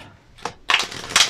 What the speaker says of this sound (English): I'll give it a quick shuffle.